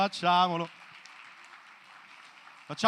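Audience applause at a comedy show: a steady patter of clapping that starts right after a short burst of voice and holds at a moderate, even level for about two seconds.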